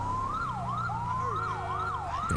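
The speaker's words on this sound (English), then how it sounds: "do you not fucking see my lights and sirens coming down here?" Wailing police siren from a police car in GTA 5 with the LSPDFR mod, cycling up and down steadily and loudly over an engine rumble, with no talk.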